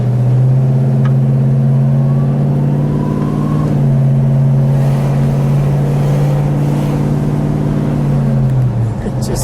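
A 1969 Dodge Super Bee with a 426 Hemi V8 rumbles steadily up close in a deep, even drone, its pitch lifting briefly mid-clip before settling and easing off at the end.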